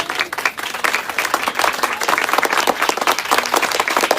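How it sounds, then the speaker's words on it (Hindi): A church congregation claps during a Hindi-Urdu sermon, a dense, steady burst of applause from many hands filling the room and continuing throughout. "आमीन पर उसने ताली बजाई है"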